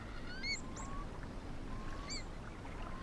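Distant rising, bubbling whistled curlew calls come in two bursts over a steady rush of background noise on a coastal estuary wetland in winter.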